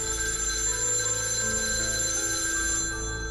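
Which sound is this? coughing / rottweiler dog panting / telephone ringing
telephone ringing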